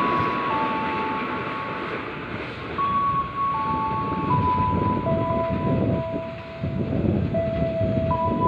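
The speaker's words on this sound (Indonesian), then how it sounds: "kereta api Argo Cirebon menggunakan lokomotif CC206 dengan relasi stasiun Gambir" An Argo Cirebon express hauled by a CC206 locomotive runs straight through a station without stopping, giving a steady, loud rumble of wheels and cars with long sustained tonal whines layered over it.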